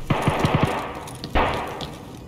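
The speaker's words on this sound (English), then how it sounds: "were those shots above me or outside?" Gunshots in the Punisher video game crack out in a quick burst of about five rapid shots. After a pause comes one louder single blast, with background game noise under it.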